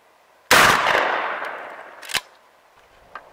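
A single loud 12 gauge Winchester 3 inch magnum slug shot from a shotgun during a velocity test, a sharp blast with a long fading echo, followed by a couple of faint clicks.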